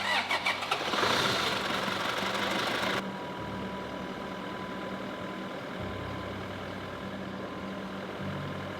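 A Toyota Hilux starts after its battery has been recharged: about three seconds of loud cranking, then the engine catches and settles into a steady, even idle.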